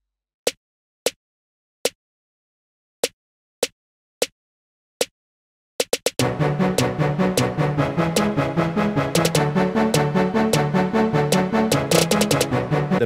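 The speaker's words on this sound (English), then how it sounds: "we have this snare coming in, and it's gonna play this pattern" A snare drum sample hits alone in a sparse, evenly spaced pattern of sharp cracks, then a full, loud beat kicks in with dense drums and music continuing to the end, for a hip-hop track.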